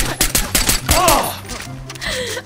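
Rapid gunfire bursts ring out in Far Cry 4, with quick cracking shots close by, then a short pause before the firing resumes with a brief voice mixed in.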